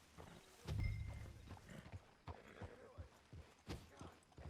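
A horse galloping in Red Dead Redemption 2 near Horseshoe Overlook, quiet rhythmic hoof thuds with a heavy impact early on, mixed with faint game ambience and someone talking over it.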